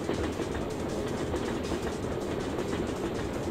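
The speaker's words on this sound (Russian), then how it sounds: "Пока поезд проедет." Subway train in the video game Syphon Filter, set in a ruined metro, rumbles past as a loud, steady roar with faint clattering, filling the whole stretch without pause.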